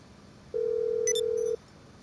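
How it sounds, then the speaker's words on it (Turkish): A single steady phone ring tone from a call placed in Grand Theft Auto V, lasting about one second, clean and alone, with a couple of brief higher electronic blips near its end. "Pegasus'u arıyorum."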